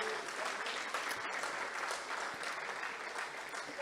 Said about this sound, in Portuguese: Aplaude o teu Deus,